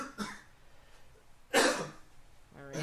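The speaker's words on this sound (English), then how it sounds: "so Jay's coughing too" Jay, a character in Marble Hornets, coughs twice, one short cough then a louder harsh one, with a throat sound at the end.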